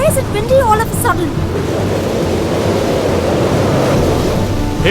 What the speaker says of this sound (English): Why is it windy all of a sudden?